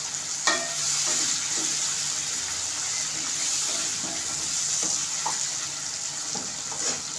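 Tomatoes sizzle steadily in a pan for aloo palak sabzi, with occasional clinks and scrapes of a spoon stirring them, a continuous bright hiss throughout.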